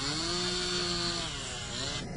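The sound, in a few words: powerful chainsaw cutting through ice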